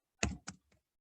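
Keys tapped on a laptop keyboard while entering an nslookup command in a command prompt: three quick, faint clicks, alone in quiet.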